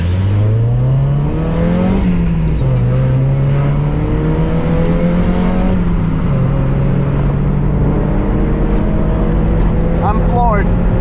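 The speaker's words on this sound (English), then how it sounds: "I'm floored, like pedal to the metal right now." A 1991 Mazda Miata engine is held at full throttle on the road at sunset, a loud, steady drone climbing in pitch through the gears with brief dips at each shift, heard from inside the car under occasional talk.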